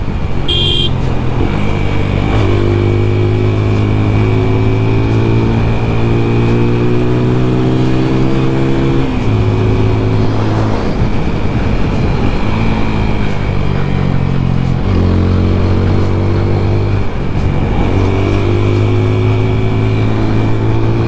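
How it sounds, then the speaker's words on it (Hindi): A TVS Apache RTR 2004V motorcycle's exhaust note while riding, a steady droning engine with rising and falling pitch as it shifts through gears, loud and close throughout with constant wind rush. "भाई अपाचे का एग्जॉस्ट नोट दे रहा है यार"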